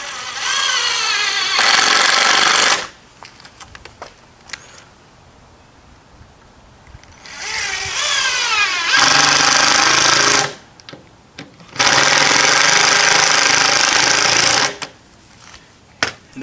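A power drill countersinks screws into the wooden frame of a garden arbor, with loud whirring bursts of a second or more starting and stopping several times and quieter gaps between them.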